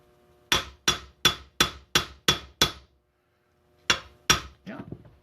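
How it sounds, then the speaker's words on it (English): A hammer and bearing drift strike the rotors of a Scherzer rotary D trumpet, seven evenly spaced sharp metallic knocks, a pause, then three more ringing blows, loud and close. "The hammer won't do. Use a bigger hammer, right?"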